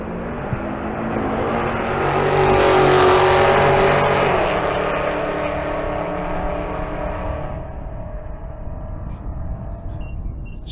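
Drag race cars launch side by side at Bandimere during a race week event, a Pontiac GTO in the right lane, engines swelling to a loud roaring peak, then trailing off into a steady receding drone.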